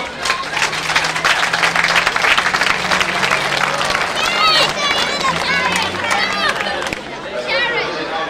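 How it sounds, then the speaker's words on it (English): A crowd at the 1993 Fair of Cahir in Ireland gives the winners a sustained round of applause, dense clapping mixed with cheering and chatter that swells and then eases slightly. "Nice big applause for these winners."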